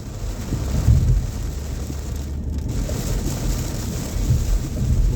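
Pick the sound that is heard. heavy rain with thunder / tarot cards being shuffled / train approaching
heavy rain with thunder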